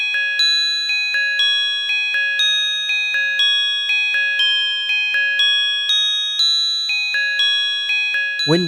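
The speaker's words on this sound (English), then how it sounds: "This is the sound of some old wind chimes which have such a pure tone I couldn't not sample them." Old metal tube wind chimes ring with pure, sustained tones, a steady series of clear strikes roughly every half second, each note decaying into the next, close and alone.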